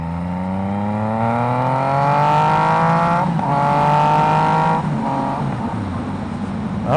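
A Yamaha XSR 900 motorcycle accelerates on the road, its engine note climbing steadily through the gears with brief dips at each shift, loud and close throughout with no voices.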